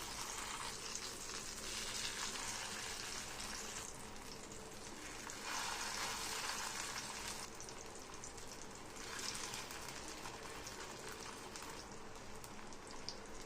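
Plantain slices fry in oil on a dosa griddle, giving a steady, dense crackling sizzle that carries on close and evenly for the whole stretch, with no talking.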